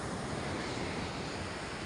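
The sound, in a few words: sea waves on the beach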